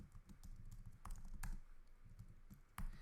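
Quiet typing on a computer keyboard, a run of soft, irregular key taps with a few sharper clicks standing out, close and alone.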